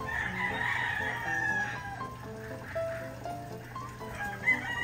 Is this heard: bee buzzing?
no